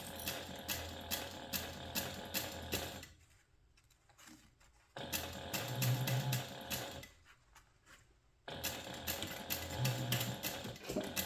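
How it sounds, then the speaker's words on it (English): A sewing machine edge stitches a fabric pouch made from sublimated fabric, running in three steady bursts of rapid mechanical ticking with quiet pauses between them, close and clear with no talk. "And then I'm just going to edge stitch that close."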